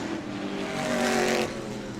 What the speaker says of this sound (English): Car is still running, trying to shake it down here and see what's going on.